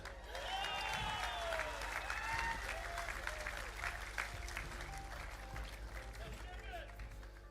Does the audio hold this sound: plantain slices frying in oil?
no